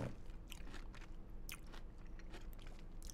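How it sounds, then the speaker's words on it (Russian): Someone chews and munches food close to the mic, with wet bites and crunchy mouth sounds repeating irregularly for a few seconds, no talk over it. "Хаваю, чавкаю, радую вас хаванием."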